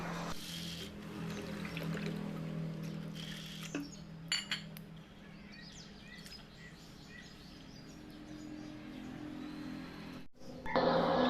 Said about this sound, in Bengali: এখন আমি সাবু ভালো করে ধুয়ে নেব